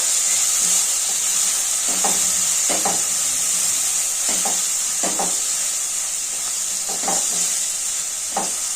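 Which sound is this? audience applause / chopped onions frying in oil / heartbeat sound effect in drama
chopped onions frying in oil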